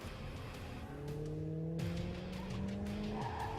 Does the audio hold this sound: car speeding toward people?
yes